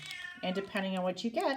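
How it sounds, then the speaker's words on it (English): A pet cat meows insistently several times in a row, close and loud, with someone talking over the cries. "You'll have to excuse my cat, you guys. She's very upset with me right now."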